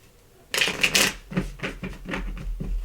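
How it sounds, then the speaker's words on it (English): A deck of cards is shuffled up close, with a sharp riffling burst followed by a run of quick, rhythmic flicks and taps. "I'm just making sure I get a good shuffle."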